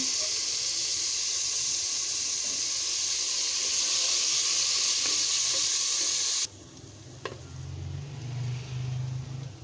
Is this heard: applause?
no